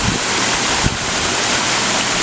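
Garden waterfall with water pumped back up from a reservoir underneath, a loud, steady broadband rush of falling water, close and constant, with no talk.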